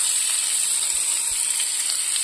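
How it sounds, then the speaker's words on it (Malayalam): Butter melting in a hot pan, the start of a cheese and white sauce for macaroni: a steady, even sizzle with fine crackle, fairly loud and alone for a couple of seconds. "ഇവിടെ ബട്ടർ ഇട്ട് കൊടുക്കുകയാണ്."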